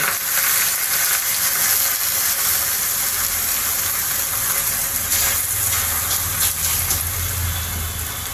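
A steady hot hiss and sizzle fills the clip as a water-dipped stale roti cooks on a very hot tawa griddle, continuous and fairly loud with no talking.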